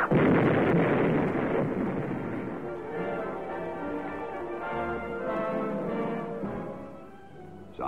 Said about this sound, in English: the charge is properly detonated from a safe distance